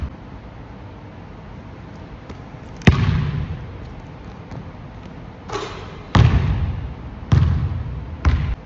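A Wilson official NBA game basketball, with wet hands, lands and bounces on a hard court after a shot: several loud, separate thuds spaced a second or two apart over a quiet background.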